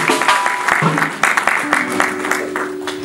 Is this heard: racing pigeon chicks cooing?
no